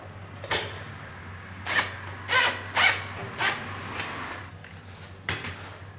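Power tool with a deep socket tightening a tail light nut, several short, sharp whirring bursts in irregular succession, close up, with brief pauses of low hum between them.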